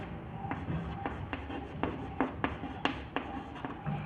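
A teacher writes during a chemistry lesson on solutions, the pen or chalk making short scratchy strokes in an irregular rhythm, close and fairly quiet, with no talking.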